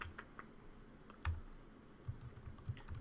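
Keyboard shortcuts tapped on a computer keyboard while coding an Android app: a few sparse, quiet clicks and one firmer keystroke, close by, with no talking.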